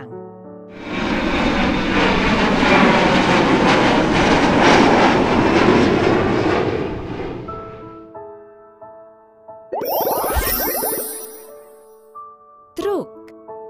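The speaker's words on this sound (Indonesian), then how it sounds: "Pesawat terbang." A loud airplane engine roars steadily for several seconds, then fades out, followed by brief bursts of voices.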